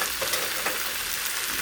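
Meat curry masala with fried potatoes sautés in a pan, a steady close sizzle and crackle of hot oil with light stirring throughout, no voices.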